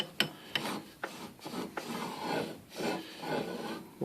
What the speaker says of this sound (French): il y a un petit frottement normal, c'est parfait